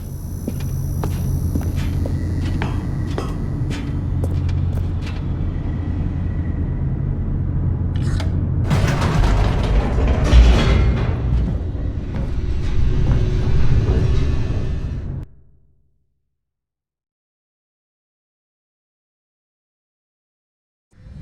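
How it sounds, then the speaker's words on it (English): Elevator plummeting downward in the video game Stanley Parable 2: a steady low mechanical rumble with rattling, clunking movement, building to a louder burst midway, then cutting off abruptly into silence. "The elevator raced downward, plummeting towards an unknown fate."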